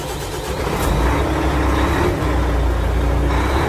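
A truck engine turns over and settles into a loud, steady low rumble that holds close by, with no voices heard.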